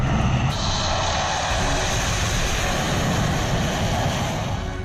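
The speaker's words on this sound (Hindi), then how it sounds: "इसका ट्रेलर आप एक्सप्रेसवे पर रिहर्सल करते लड़ाकू विमान की गर्जना से समझ सकते" Fighter jets such as Jaguar and Mirage roar overhead while rehearsing above an expressway airstrip, a loud, sustained engine rumble with a steady high whine filling the whole stretch, no talk over it.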